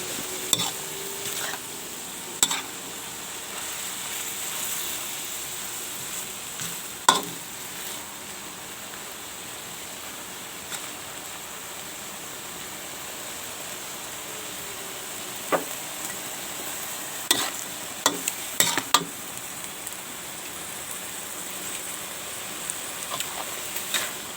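Egg stir-fried with homemade pickled bamboo shoots in a pan: a soft steady sizzle with occasional sharp scrapes and clicks of the spatula, fairly quiet and close, no talking.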